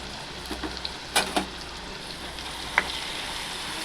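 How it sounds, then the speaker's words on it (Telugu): Food sizzles steadily in hot deep-fry oil as it turns golden for a chicken pickle, with a few louder crackling bursts and spatters over the continuous frying hiss. "వేసి బాగా గోల్డ్ కలర్ వచ్చేంత వరకు దీన్ని కూడా వేగనియ్యాలి"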